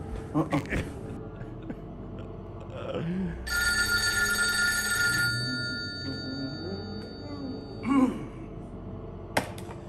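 Telephone at a Waffle House ringing with one bright, steady electronic ring burst of about two seconds, among scattered room sounds and nearby voices.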